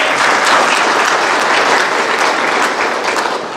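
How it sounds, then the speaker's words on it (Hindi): Audience applause fills the room, a dense continuous wash of many hands clapping at steady loudness, tapering slightly toward the end. "आपके ताली बजाने से मैं प्रसन्न नहीं होता"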